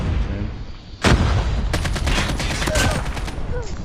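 Rapid bursts of hip-fire gunfire in Call of Duty Mobile crackle loudly in quick succession over a steady game background, with a sharp onset and repeated shots.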